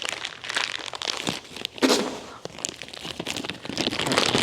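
A small plastic one-way inline fuel filter for an Echo gas mower is ripped out of stiff plastic packaging, giving a run of crinkling, crackling tears and crunches that continues for several seconds.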